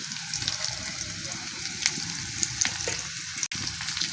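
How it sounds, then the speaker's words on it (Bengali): Potatoes and onion fry in a hot pan with a busy, continuous sizzle, crackling and popping throughout, with brief clinks and a sharp tap near the end, and no voices heard. "আলুর সাথে পেঁয়াজটা ভালো করে ভেজে নেব"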